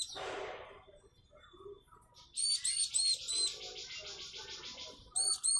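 Day-old bar-winged prinia (ciblek) chicks give thin, high chirps in short bursts, close and fairly faint, after a brief rustle and quiet stretch.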